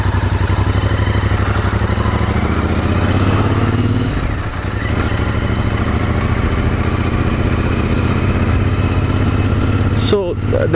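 An Interceptor 650 twin-cylinder Royal Enfield engine hums continuously at an even pace, loud and near. Its steady buzzing drone has a brief sharper disturbance near the end.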